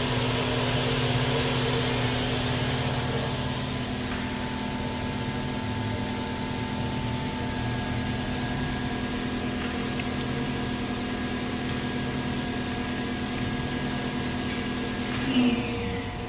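The spindle of a Fadal 6030 HT CNC vertical machining center spins at high speed, a steady loud whine with tonal hum running for many seconds at close range and no talking.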